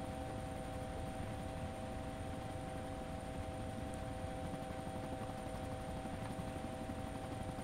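A helicopter in the video game DayZ hums steadily as it approaches, a faint, continuous rotor drone with a constant tonal whine and no voices.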